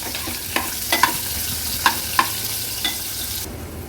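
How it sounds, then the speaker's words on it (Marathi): Chopped onion sautéing in oil in a pan, a steady soft sizzle punctuated by several sharp metallic spoon clinks and scrapes as it is stirred, close and without talk, ending abruptly. "कांदा पण परतून घेऊया तेलावर छानसा"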